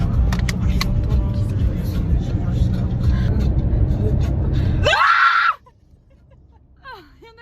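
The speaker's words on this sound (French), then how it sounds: "on va crier hyper fort pour qu'ils entendent" A group of friends shouts very loudly together in one burst, heard over busy outdoor crowd and traffic noise with talking, then cut off abruptly by a quieter scene where brief voices follow.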